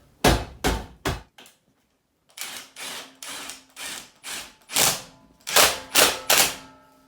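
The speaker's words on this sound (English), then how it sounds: "So we'll just seat it with a rubber hammer" A rubber mallet seats a wood-burning stove's stovepipe in an off-grid cabin: dull, solid knocks, three quick ones, a pause, then about nine more evenly paced thumps, close and fairly loud.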